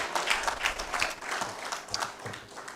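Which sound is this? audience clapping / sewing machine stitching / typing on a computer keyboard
audience clapping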